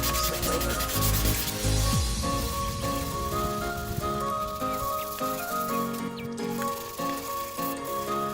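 Steady wet-sounding rubbing of 800-grit sandpaper across a metal differential cover, continuous back-and-forth strokes close up and fairly loud, with no talking.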